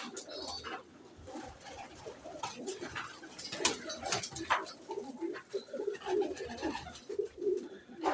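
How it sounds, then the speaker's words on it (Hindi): Pigeons, Teddy and mixed-breed pairs kept in a single room, coo softly and repeatedly in overlapping, gurgling calls at close range, with faint wing flutters and shuffling. "ये कुछ ऊपर बैठे हुए हैं कबूतर"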